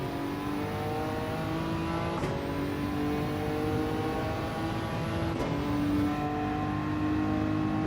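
A turbocharged race car in Gran Turismo 7 at old-school Suzuka holds a loud, steady high-rev engine whine, broken by two quick gear shifts roughly three seconds apart.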